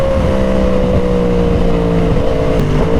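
A rare Yamaha R1 sport motorcycle engine revs hard and close while accelerating, holding a loud, steady high-pitched whine that drops briefly at each gear change before climbing again.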